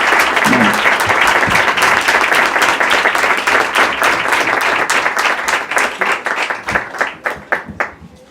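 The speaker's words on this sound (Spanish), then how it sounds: "quiero hacer un aplauso para todos los compañeros que han venido y han hecho un esfuerzo enorme." An audience at a talk bursts into sustained applause for attending comrades, dense clapping that holds steady for several seconds before thinning out into scattered individual claps at the end.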